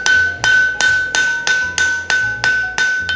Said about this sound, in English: So I'm gonna heat it up again and take a ball peen to it.